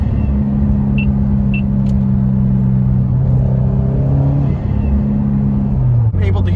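Subaru STI with a Cobb titanium catback exhaust, steady engine drone and rumble from inside the car, pitch easing as the throttle is lifted, with induction noise underneath.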